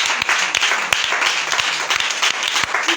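A church congregation at a worship service applauding loudly and steadily, dense close clapping that continues without pause.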